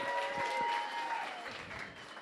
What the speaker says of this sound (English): Another round of applause for the incredible panel that we've got here today